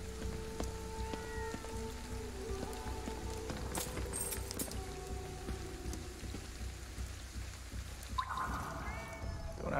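Cat meows in the video game Ghostwire Tokyo, set against steady rain pattering on surfaces, with tonal game chimes, a quick run of footsteps and a brief cry near the end.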